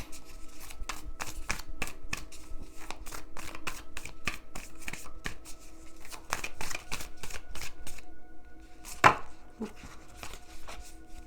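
Rapid, crisp riffling and slapping of a tarot deck being shuffled, repeated in quick bursts with a brief pause, close and fairly loud.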